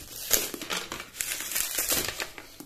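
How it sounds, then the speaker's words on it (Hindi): Close, loud crinkling and crumpling of plastic wrap as the film is peeled off a book-shaped money bank, in irregular bursts of rustling with no talking. "और यहाँ पे इसकी पन्नी भी निकाल लेते हैं।"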